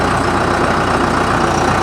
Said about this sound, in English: So let me go ahead and start the tractor up